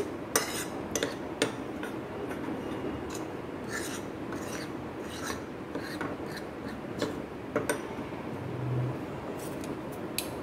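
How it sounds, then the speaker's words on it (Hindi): Sifted flour and dry ingredients for oil brownies being mixed in a bowl, a soft continuous rasping and scraping with light clinks of a utensil against the bowl, quiet and close. "छानने के बाद हम अच्छी तरीके से तीनों चीज़ों को मिक्स करेंगे"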